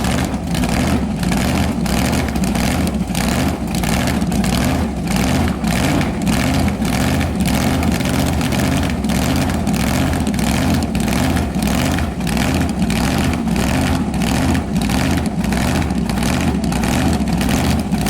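A car engine topped by a giant supercharger blower revs continuously, a loud, rough, pulsing idle with a steady lumpy beat throughout and no talking.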